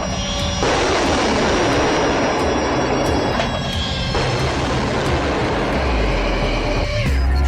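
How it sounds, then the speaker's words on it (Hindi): An Iranian Arash-2 suicide drone launches from a stand with a rocket booster, giving a loud, sustained roaring rush that holds steady for several seconds and shifts in tone near the end. "ये एक स्टैंड पर रॉकेट बूस्टर की मदद से टेक ऑफ करता है"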